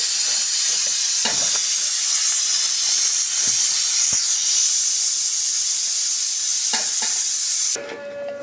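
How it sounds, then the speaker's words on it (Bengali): Rice for biryani fries in a pan with a loud, steady hiss and sizzle close by, broken by a few faint scraping stirs, before cutting off abruptly near the end. "চালটা ভালো করে ভেজে নিতে হবে।"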